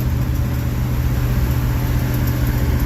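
A car engine idles steadily at full operating temperature, a loud, constant low rumble close by with no voices over it.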